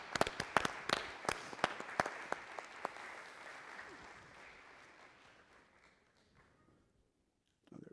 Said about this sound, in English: Let's give another big round of applause for all three nurses.